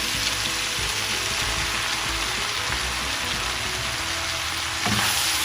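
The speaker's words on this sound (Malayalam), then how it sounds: "പാസ്ത എല്ലാം കൂടെ ചേർത്തിട്ട് നന്നായിട്ടൊന്ന് മിക്സ് ചെയ്യാം" Cooked pasta is stirred into chicken and vegetables in a hot pan, giving a loud, continuous close-up sizzle and frying crackle with soft stirring scrapes throughout.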